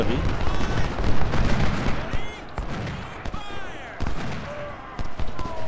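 Dense, continuous gunfire and booming artillery rumble through a Civil War battle in the strategy game Ultimate General: Civil War, with crackling musket volleys layered over deep cannon blasts throughout.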